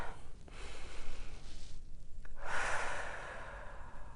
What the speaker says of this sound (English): Breathe deeply down into your belly.